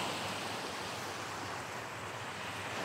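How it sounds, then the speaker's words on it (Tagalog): Sea waves washing onto the shoreline at a village beach in Mondragon, Northern Samar, a steady, broad hushing roar of surf with no clear breaks, faint and somewhat distant, mixed with wind. "Ayan po ang abot ng alon dito sa baybayin na ito."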